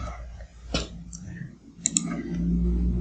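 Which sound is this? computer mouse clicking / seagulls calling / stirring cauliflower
computer mouse clicking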